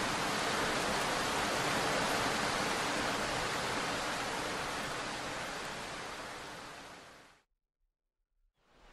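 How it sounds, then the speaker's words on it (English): Rain falling outside as a dense, even hiss that holds steady, then fades down into silence near the end, no voice heard. "Outside, a bitter rain fell"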